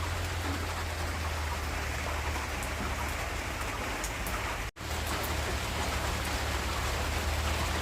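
Heavy rain falls steadily and loudly in a constant dense hiss that fills the scene, with a brief dropout near the middle before the downpour resumes unchanged.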